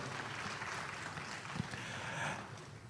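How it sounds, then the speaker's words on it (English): Applause from a seated audience at a school district stakeholder meeting in La Porte ISD, a steady wash of clapping lasting about three seconds, moderately distant and evenly sustained. "Let's just give everybody a round of applause for being here."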